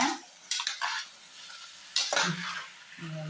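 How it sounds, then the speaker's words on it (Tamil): Goat head curry sautés with ginger-garlic masala, a quiet sizzle broken by a few sharp stirring scrapes and clatters against the pan, near and without speech. "இது நல்லா வதங்கிட்டு இருக்கு"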